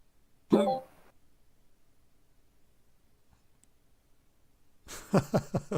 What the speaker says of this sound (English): One of the guys on Discord just burped or something